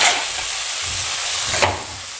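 Boiled Maggi noodles go into a hot pan for mixed veg noodles, raising a bright, continuous sizzling hiss with a brief sharper burst near the end, close and fairly loud.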